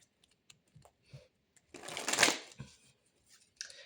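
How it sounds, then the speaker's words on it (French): Tarot cards are shuffled close by to draw three, starting with light scattered flicks before a dense riffling burst, then a few soft taps at the end, with no talk. "on va tirer 3 cartes avec ce jeu"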